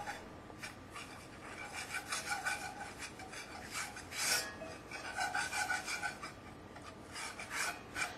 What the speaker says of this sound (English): So it's a cup of the grease, but you could also use peanut oil or any other mild oil, not necessarily butter. And you're going to start stirring.